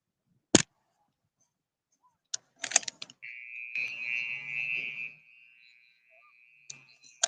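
A steady electronic buzzer sounds for about two seconds to end a period at a high school varsity boys lacrosse game, with scattered clicks and knocks before and after it and no talk.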